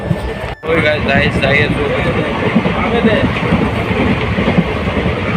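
A moving passenger train in Guwahati rumbles and rattles steadily from the inside, with wheels clacking over the rails. A person talks over the loud, continuous ride noise.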